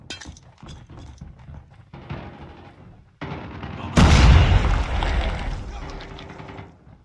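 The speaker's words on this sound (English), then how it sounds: "Grenade, move!" Grenade blast in Call of Duty Mobile team deathmatch, a loud sudden boom with debris and rumble decaying over a few seconds, following scattered gunshots and clinks, with game voice callouts heard throughout.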